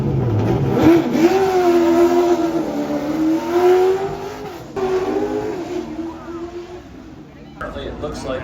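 Race car engines revving and accelerating at Florence Motor Speedway during qualifying, a rising and falling engine drone at moderate distance, heard under steady nearby talk.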